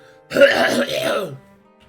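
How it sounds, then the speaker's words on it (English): A single rough cough or throat-clear, close and fairly loud, lasting about a second before quiet returns. "I'm also an old man, so I got a cough."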